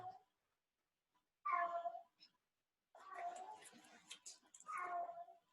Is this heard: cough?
no